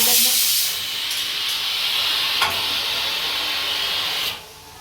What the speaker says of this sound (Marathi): कुकरमधनं हे बघा कुकरमधनं पाणी येतं बाहेर